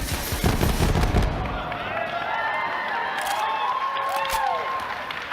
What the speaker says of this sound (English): But if we switch our alternate firing modes, we fire off micro missiles.